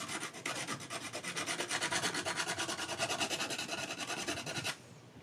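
A cheap dollar-store nail file rasps rapidly back and forth across the edge of a vinyl record, a close, dense run of quick scratchy strokes that stops abruptly near the end, with no talking.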